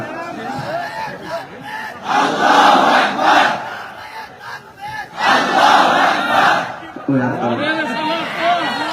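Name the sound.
crowd chanting a religious slogan (takbir)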